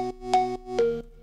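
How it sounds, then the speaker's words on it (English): A bright, high-pitched Korg M1 Organ 2 preset, pitched up an octave, plays three short sustained chords in a quick sequence, clean and alone with nothing else around it. "So the Korg Organ 2 preset, but then it's been pitched up by an octave."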